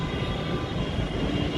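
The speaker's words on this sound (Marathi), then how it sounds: "त्या साईडने आता मेट्रो जात आहे ॲक्च्युली" A metro train runs past Malad station in Mumbai, heard from a nearby viewpoint as a steady, broad rumble that holds at an even level throughout without any talk over it.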